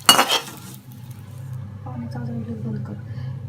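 Dried fish (sukat), just roasted, being scraped and moved from a pan onto a plate: a sharp metallic clatter at the start, then softer scraping and clinking, with faint background sizzle.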